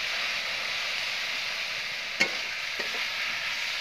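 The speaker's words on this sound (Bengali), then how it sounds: "এরকম নাড়াচাড়া আমি করে নিচ্ছি।" Paste of poppy seed, onion and chili being stirred in a pan, giving a steady soft sizzle with a few sharp scrapes of the spoon near the end, close up and without voices.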